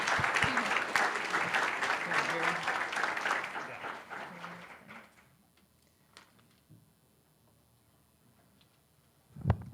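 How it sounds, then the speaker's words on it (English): Audience applause at a weekly club meeting, steady dense clapping for about five seconds that fades out, leaving quiet room noise and faint movement. "Another round of applause."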